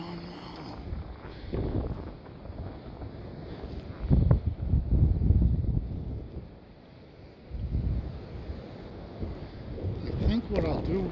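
Blizzard wind roars and gusts across a snow-buried yard in Buffalo, New York, on Christmas Eve 2022, buffeting the microphone in steady loud waves, with a person briefly talking amid it.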